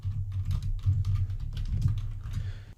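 Someone types on a computer keyboard in quick, uneven bursts of close, soft key clicks, with no talking.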